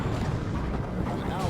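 Plasma cannon fire in the Warhammer 40,000: Dawn of War 2 strategy game, a loud, dense burst of booming, rumbling blasts that runs continuously through a chaotic battle mix.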